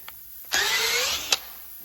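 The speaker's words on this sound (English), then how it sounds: "I'm just cleaning out the holes that I drilled." A short burst of a power drill whirring for under a second, cleaning out drilled holes during control arm bushing removal on a 1965 Ford Galaxie, bracketed by faint clicks in an otherwise quiet space.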